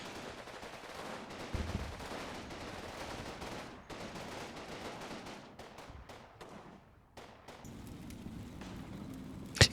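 Infantry gunfire at a cathedral in the war strategy game Combat Mission, heard as scattered, fairly faint volleys and cracks of rifle and machine-gun fire, then a sharp louder shot at the very end.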